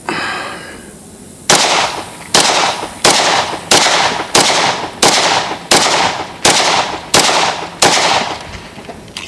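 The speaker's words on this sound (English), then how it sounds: "What do you say we run a few bullets through her?" About a dozen loud gunshots from a 1911 pistol chambered in .38 Super, fired in a steady, evenly spaced string, each sharp crack trailing into a brief echo.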